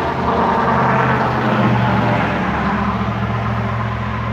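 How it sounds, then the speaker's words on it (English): Loud road traffic passing on a roadside in Michigamme, a steady heavy engine roar and rumble close by, with no talk over it. "Well, we got some loud traffic."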